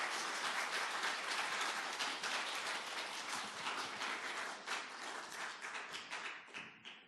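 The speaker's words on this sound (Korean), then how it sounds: "우리 첫 설교니까 크게 박수로 한번 격려해 주시고" A church congregation at a Sunday afternoon worship service claps loudly and steadily together to encourage a first sermon, the dense applause holding throughout before thinning out near the end.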